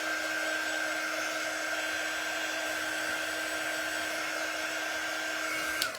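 Heat tool drying black paint on a transfer sign, a loud steady fan-driven whir with a constant high tone, running close and unbroken before cutting off at the end.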